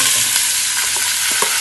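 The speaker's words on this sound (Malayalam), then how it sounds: "അങ്ങനെ കടുക് പൊട്ടിച്ചാട്ടോ ഞാൻ ചെയ്യണത്" Mustard seeds spluttering and popping in hot oil in a home kitchen, a loud, continuous close sizzle with scattered sharp crackles and pops over about a second and a half, no voices.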